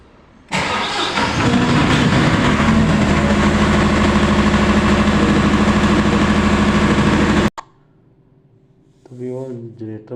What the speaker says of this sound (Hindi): अब मैं अपने जनरेटर को चलाने लगा हूँ